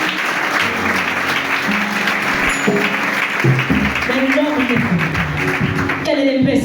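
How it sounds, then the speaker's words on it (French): A church congregation applauds and cheers loudly at a service, steady clapping and voices mixed with musical tones from a keyboard underneath. "Est-ce que tu peux l'acclamer?"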